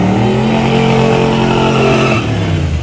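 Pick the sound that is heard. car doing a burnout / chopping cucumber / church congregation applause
car doing a burnout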